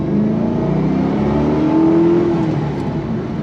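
A 2005 Ford GT with a supercharged 5.4-liter V8 drives along, a steady loud engine drone with a smooth, even tone and no talking over it.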